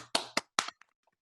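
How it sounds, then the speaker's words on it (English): A few sharp, separate hand claps from an audience at a Kiwanis closing session, loud and close, followed by a couple of faint, scattered claps as the applause trails off. "Please give him a huge round of applause."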